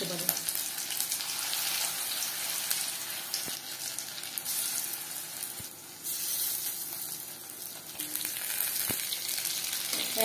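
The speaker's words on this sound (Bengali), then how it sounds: "হাই ফ্লেমে ভাজা যাবেন না, পকোড়া উপরে ভাজা হয়ে যাবে কিন্তু ভেতরে কাঁচা থাকবার সম্ভাবনা থাকতে পারে।" Prawn and vegetable pakora frying in hot oil over a moderate flame. A dense, steady sizzle fills the whole span at close range, with a few soft ticks and a short dip where the oil quiets briefly. No speech.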